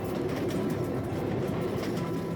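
A train rolls along rails in Bolivia with a steady, dense rumble and rattle of the carriages, close and continuous, with no voices.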